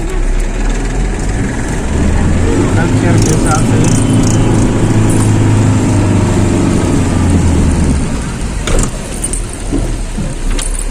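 Tractor engines idle at a Sindhi culture tractor rally, a loud low rumbling throb that holds steady for several seconds and then eases off, with people talking over it.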